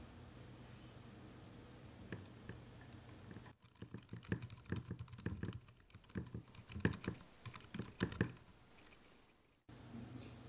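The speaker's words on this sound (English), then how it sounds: "I'll just pull up text edit so I can type something." Rapid typing on a Luxeed LED computer keyboard, a dense run of light plastic key clicks at close range, starting a few seconds in and stopping abruptly near the end, with faint background hum before.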